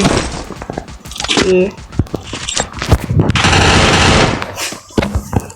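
Rapid automatic gunfire from the Free Fire video game during a 4v4 ranked match, with dense bursts of loud shots and crunchy impacts filling most of the stretch while the player talks over it.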